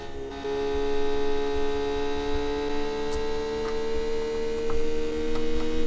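A steady high-pitched sports car engine whine at high RPM, with layered tonal harmonics, holds at a constant pitch, loud and close, with no voices.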